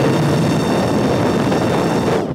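A small homemade fan spun by a drone motor blows air steadily, a loud, even rushing whoosh close to the microphone that stops abruptly at the end.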